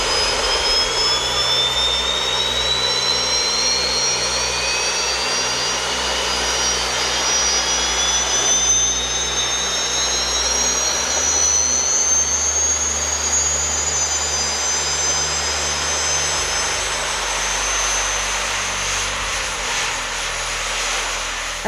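A jet pack's engines roar continuously at full power, very loud and close, with a steady rushing blast and a thin high whine that rises and falls throughout.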